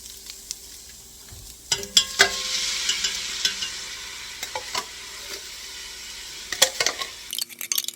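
Tomatoes are tipped into a pot for tomato basil soup, then stirred: a soft sizzle and wet scraping, with a few sharp clinks of utensil against pot, close up and intermittent.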